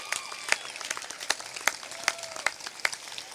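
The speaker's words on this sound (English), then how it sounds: "Give yourself a round of applause." A middle school graduation audience claps for the class, a dense wash of many hands with sharper individual claps standing out, steady and fairly loud throughout.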